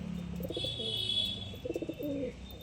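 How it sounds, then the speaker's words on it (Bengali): Pigeons coo softly in a loft in Kolkata, a few low rolling calls in short bursts against a faint background hum, with no talking. "এইটা মেল পায়রা আছে, এটা ফিমেল পায়রা আছে।"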